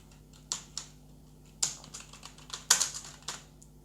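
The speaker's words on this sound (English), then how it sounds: "that's why I'm typing my address." Typing on a computer keyboard while filling in an online college admission form, quiet scattered keystrokes in short uneven bursts, close and alone with a low electrical hum underneath.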